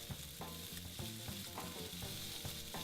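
Minced garlic sizzles steadily as it caramelizes in a hot pan, a close, continuous frying hiss broken by light stirring clicks and scrapes, with no voices.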